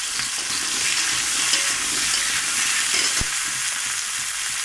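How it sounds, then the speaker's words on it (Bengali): Potatoes and green chillies frying in oil produce a close, continuous hiss-like sizzle, with occasional soft stirring scrapes and one brief knock partway through, and no voices. "আর কাঁচা লঙ্কাগুলো দিয়ে তেলের মধ্যে হালকা করে নেড়ে নিয়ে প্রথমে আমি আলুগুলো দেব।"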